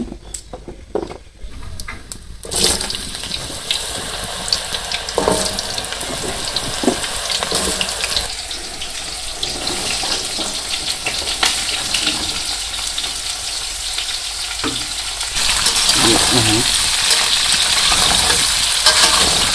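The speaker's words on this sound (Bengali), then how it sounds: "এখন আমি আমগুলা ভালো করে তেলের মধ্যে ভেজে নেই" Sun-dried mango pieces fry in oil for a village-style sour pickle. The loud, continuous sizzle runs with stirring scrapes and clatter, growing brighter and more intense toward the end.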